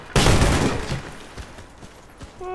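Gunfire in the video game Warface: a sudden loud burst of shots that fades, followed by a few scattered single shots.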